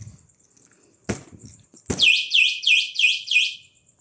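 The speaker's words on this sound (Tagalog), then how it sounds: "Pero meron pa ibang yan, tunog. Ayan siya. So, naka-alarm kasi." A sharp click and beep, then a loud electric bike anti-theft alarm chirps in a rapid repeating warble, about six pulses, close by.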